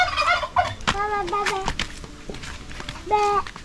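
A turkey gobbles in several quick warbling bursts, close and loud, with a final gobble near the end, while people talk nearby.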